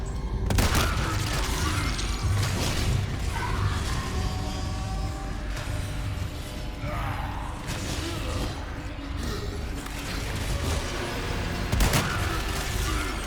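Stingray rifle fire in the Resident Evil 4 Remake video game: sharp gunshot cracks at about 0.5 and 12 seconds stand out over a dense, continuous bed of game noise, rumble and mechanical effects.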